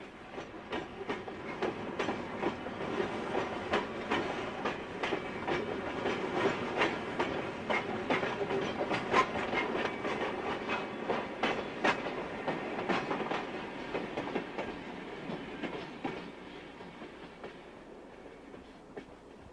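A Wabash Railroad freight train hauling a string of St. Louis Car Company subway cars rolls past, its steady clickety-clack of wheels over rail joints continuous and moderately distant.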